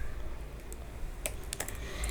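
Quick, light keystrokes from someone typing code on a computer keyboard, a short run of close clicks over a low hum.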